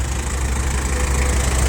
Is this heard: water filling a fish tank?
no